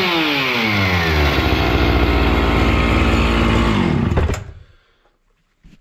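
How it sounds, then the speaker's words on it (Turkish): A Husqvarna 61 chainsaw engine under repair, with a freshly welded exhaust and no top cover, roars loudly at high revs, its pitch sliding steadily lower before cutting off abruptly into near silence with a faint knock at the end. "Biraz daha gazına basarak çekeyim."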